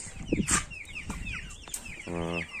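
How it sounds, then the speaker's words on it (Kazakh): High chirpy cheeps from chicks repeat across the moment, mixed with a brief clucking burst and some scuffling, nearby. "мінекей балапандарымыз."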